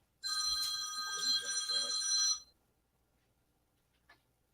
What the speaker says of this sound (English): I thought I turned the phone off. I'm sorry.